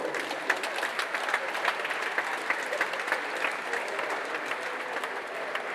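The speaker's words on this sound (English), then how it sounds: "A round of applause for them" Crowd applause for a group of five fundraisers at a gathering in Ghana, a dense, steady clatter of many hands clapping throughout at even loudness, with faint voices mixed in.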